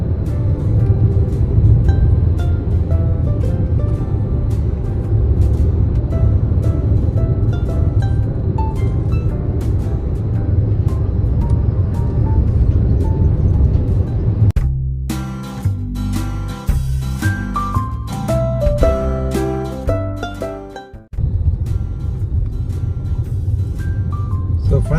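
Steady, loud drone of a car cruising on an expressway toward Jaipur in India, a continuous low engine and road roar that briefly changes texture with clattering noise before the smooth hum resumes.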